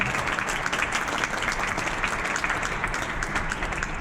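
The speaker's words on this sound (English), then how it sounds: "one more time, an applause for yourselves for being here" Applause from the audience at an open panel discussion on safer spaces, a dense, even wash of clapping that holds steady without pause.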